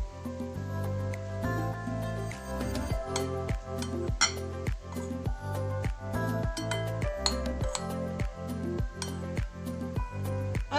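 Chicken pieces tossed with red chili powder and black pepper in a bowl, with steady rhythmic clinks of a spoon against the bowl repeating throughout, close and clear with no talk.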